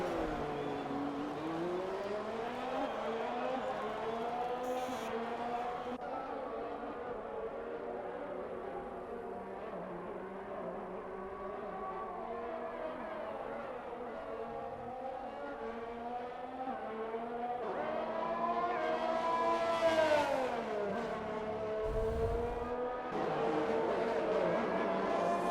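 An Alpine race car on a flying qualifying lap howls through rising and falling engine notes as it shifts gears, climbing to a loud high-pitched peak near the end, with the engine dominating and no talk heard.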